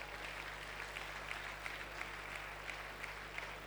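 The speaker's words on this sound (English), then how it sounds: "Oh, you are clapping." Audience applause in a lecture hall during a talk honouring a former governor, a steady, fairly distant patter of clapping from many hands with faint peaks, heard alone without speech over low mains hum.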